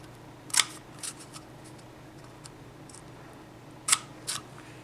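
Scissors snip a cardboard toilet paper roll in two crisp, separate cuts with a quiet pause between them, close and alone with no talk.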